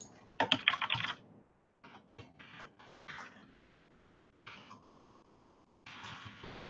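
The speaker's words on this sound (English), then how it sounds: "So trying to type all that out again." Keys clatter on a computer keyboard while CSS code is retyped, in quick bursts of close, crisp typing separated by short pauses, with no talking.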